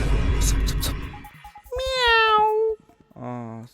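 After a stretch of talking, a cat lets out two drawn-out, tonal meows close by, the first longer and louder, the second shorter, with a brief quiet gap between them.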